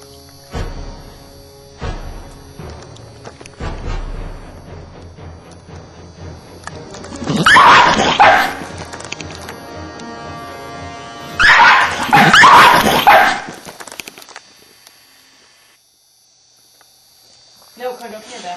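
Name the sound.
dog barking at an iguana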